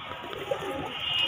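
Wild pigeons on a rooftop give a soft, brief coo, close and low against faint background noise.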